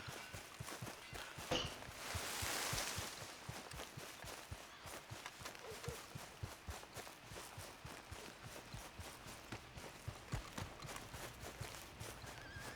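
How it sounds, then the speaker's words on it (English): Horse hooves clip-clop steadily in Red Dead Redemption 2, a continuous walking-to-trotting rhythm of close, repeated hoof strikes, with a brief whinny-like burst of noise early on and no talking. "Eu vou roubar um cavalo aqui"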